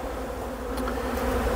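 Honey bees buzz around their hives, a close, steady, dense hum lasting a moment with no voices.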